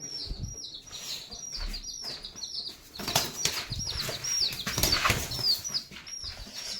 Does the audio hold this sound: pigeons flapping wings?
yes